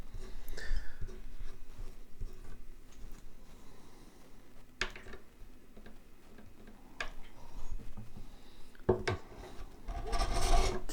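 A file or abrasive tool rasps across the frets of a Yamaha FG445 acoustic guitar neck, giving a few short scraping swipes with ticking clicks between them, close and moderately loud with no talking.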